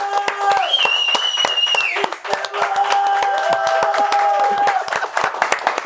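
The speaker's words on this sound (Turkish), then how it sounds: "kocaman bir alkış istiyorum burada" A rap show audience claps and cheers under loud music, with sustained electronic tones and beats layered over the applause throughout.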